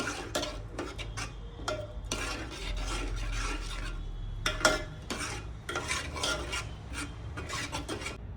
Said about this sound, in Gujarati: દહીં એડ કર્યા પછી આપણે બરાબર હલાવી દઈશું.